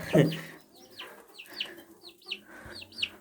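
Chickens and roosters cluck in a coop, starting with a louder squawk and then a series of short, close clucks at an uneven rhythm.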